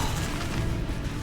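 Bombarda spell explosion in the video game Hogwarts Legacy, a brief dense booming blast with a deep rumble, loud and close.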